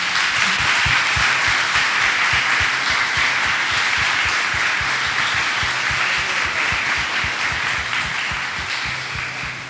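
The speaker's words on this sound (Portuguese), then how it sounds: "Você pode aplaudir" A church congregation applauds together in a steady, dense wash of clapping that fills the room and holds at full strength throughout, easing only slightly near the end.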